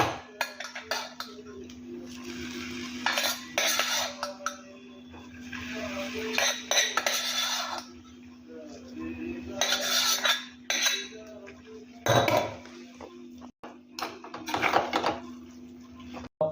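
A metal spoon scrapes and clinks in a pot as cooked millet rice is folded into kokum saar, bursts of stirring come and go with a steady background hum.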